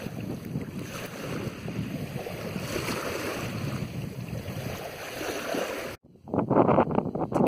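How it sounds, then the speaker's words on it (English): Surf washing onto the Caspian Sea beach at Lankaran, Azerbaijan, a steady low rumble of waves mixed with wind buffeting the microphone, ending in a louder gusty burst. "This is the Caspian Sea, the beach at Lankaran, Azerbaijan."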